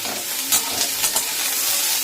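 Boiled, salted potatoes fry in a wok, browning with a steady sizzle while a utensil scrapes and stirs them in a few short strokes.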